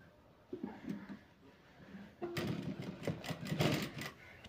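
A sewing machine double-stitches a long blouse, running in a fast, close rattling burst that follows a quieter stretch of handling and faint speech.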